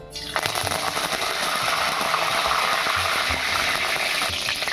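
Curry leaves hit hot oil in a kadhai and burst into a loud crackling sizzle that starts abruptly and keeps spitting steadily, with occasional low clinks from the pan underneath.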